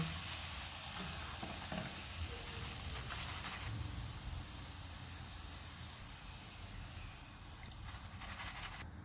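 Struffoli dough balls deep-frying in oil give a continuous, dense hiss of bubbling that fades slightly partway through and then stays steady. The sound is moderately close, with no speech.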